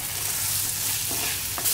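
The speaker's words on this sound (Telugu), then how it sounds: "దీన్ని మనం హై ఫ్లేమ్లోని 5 మినిట్స్ పాటు ఫ్రై చేసుకుని సర్వ్ చేసుకోవటం." Crispy chicken pieces fry on high flame, a dense, loud, even sizzle of hot oil with a brief stir and a sharper burst near the end.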